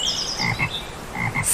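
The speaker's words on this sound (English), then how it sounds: "Frog," Frog croaking, a series of close, clear rhythmic croaks in two short bursts, with no talking.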